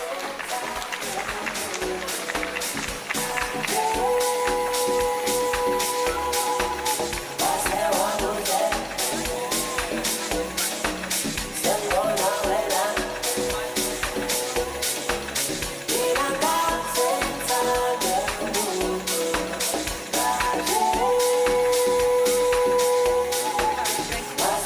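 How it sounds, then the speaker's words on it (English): Crowd at a mayoral matric awards ceremony clapping steadily and rhythmically for a long stretch, with voices and tonal sound running over the applause. "Please give them a round of applause."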